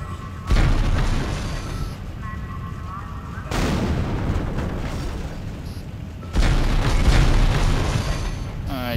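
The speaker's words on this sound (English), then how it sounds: "I should not be so close to these explosions." Explosions in the video game Dead Space go off as three heavy, booming blasts, each followed by a sustained rumbling roar that carries on until the next detonation.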